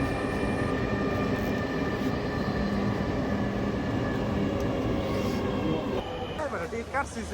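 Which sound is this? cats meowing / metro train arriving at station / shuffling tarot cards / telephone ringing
metro train arriving at station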